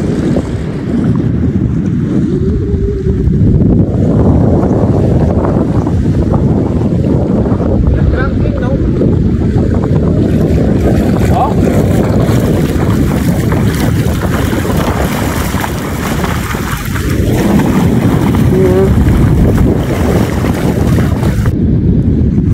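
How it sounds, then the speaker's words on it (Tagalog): Strong wind buffets the microphone by the sea at low tide, a constant loud rush with calm water sounds beneath and a voice speaking at times. "Ang hangin papunta doon ang hangin."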